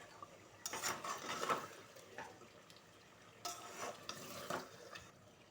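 Goat meat and potatoes stirred in a pot with a spoon, two bursts of scraping, clinking stirs separated by a quieter stretch, with faint frying underneath and no talking.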